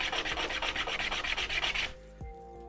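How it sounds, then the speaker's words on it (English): Rapid back-and-forth rasping of sandpaper on wood by hand, close and steady for about two seconds before stopping, leaving a quieter pause with a small knock. "When I sand it down, I can see the grain."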